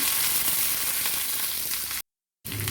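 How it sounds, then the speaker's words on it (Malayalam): Garlic and curry leaves frying in oil in a pan, a dense, loud, continuous sizzle that cuts out briefly and then resumes. "വെളുത്തുള്ളി ഇട്ട് കൊടുക്കാം. ഒന്ന് ഫ്രൈ ചെയ്തെടുക്കാം."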